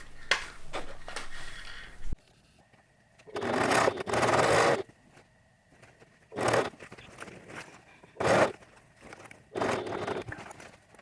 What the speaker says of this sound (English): I'm going to stitch up, around and down just to close that pocket over